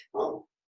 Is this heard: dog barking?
yes